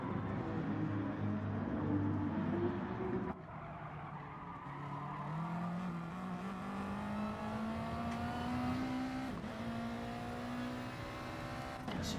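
Race cars in a Gran Turismo–style racing game run down the start-finish straight at Fuji International Speedway, engines droning steadily and rising in pitch through upshifts, with a sustained loud whine throughout.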